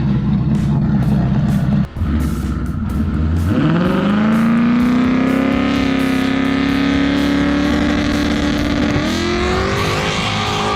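Race car engine idling roughly, then revving up to a loud, sustained high drone that holds steady, with a brief drop and fresh surge near the end; continuous and close, no talk over it.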